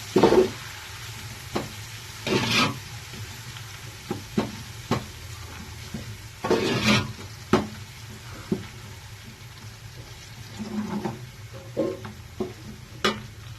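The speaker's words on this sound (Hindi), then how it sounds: "प्याज को डार्क ब्राउन होने तक फ्राई करेंगे।" Onions fried dark brown with ginger garlic paste sizzle gently in a pot for chana pulao, broken up by repeated scraping stirs and sharp spoon knocks in irregular bursts, close and moderately loud.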